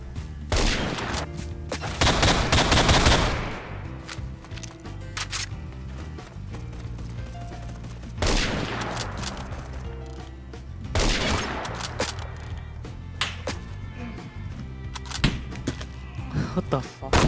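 Intervention sniper rifle gunfire in the Roblox shooter Phantom Forces comes as several loud, sharp shots spaced seconds apart, with reverberant tails and other gunfire around them, while someone talks between shots.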